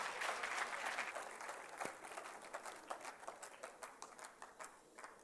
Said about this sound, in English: Let us warmly welcome our guest with huge round of applause.